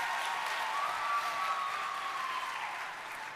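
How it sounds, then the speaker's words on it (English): Steady crowd applause fills a large hall during a plenary speech at a youth convention in Baltimore, an even wash of clapping that holds throughout and fades slightly at the end. "You can clap to that."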